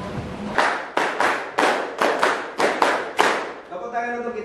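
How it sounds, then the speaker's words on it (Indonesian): A class claps out a rhythmic number-clapping pattern in crisp, loud groups of sharp claps separated by short pauses, and a voice starts speaking at the end. "Kita lakukan seperti biasa, saya kira sudah pernah, yaitu dengan melakukan tepuk angka."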